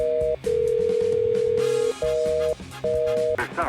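Several electronic answering-machine style beep tones play in an irregular sequence, one long and the others short, over a busy synthetic musical backdrop during an esports match broadcast.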